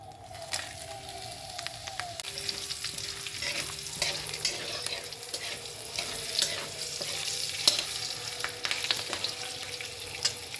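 Whole garam masala, cumin seeds, green and dried chilies and bay leaf frying as a tempering in oil left from frying a katla fish head, a crackling sizzle with scattered sharp pops and stirring clinks, close and steady without talk.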